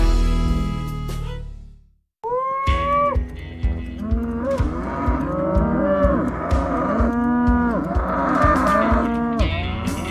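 Cattle on a Wyoming grass-fed beef ranch moo loudly and repeatedly, several overlapping bellowing calls from a nearby herd over a steady rhythmic clicking background, with no talk.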